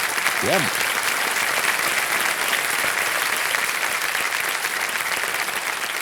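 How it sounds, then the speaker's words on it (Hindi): A quiz-show studio audience keeps up continuous loud applause for a winning contestant, with a brief voice near the start. "तालियां बजती रहे इनके लिए।"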